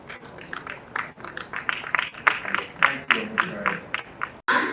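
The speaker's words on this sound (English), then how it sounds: "Please, a round of applause." Audience applause at a corporate exhibition event after a dignitary is introduced, a steady stream of many hands clapping at moderate volume with a rhythmic, uneven patter.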